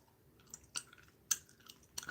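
Chewing gum in a quiet room: soft, close, wet smacks and clicks in an irregular rhythm, several sharper bursts standing out over faint background hiss, no speech.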